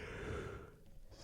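A single drawn-out yawn from a worker in a workshop, a breathy, sighing exhale that fades into quieter room noise, heard up close with no other talk.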